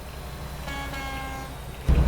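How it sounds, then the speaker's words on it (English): Horn on a semi truck in a trucking simulator game, driving on Interstate 84: a short, modest tonal honk lasting under a second, sounding over steady road and engine hum, followed by a low rumble. "I have a kind of measly little horn on this one."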